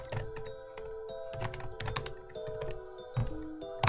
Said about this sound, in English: Maybe I guess speed type this real quick.